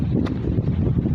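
Strong wind gusts during a windstorm, a steady low roaring rumble buffeting the microphone for a short stretch, with no voices.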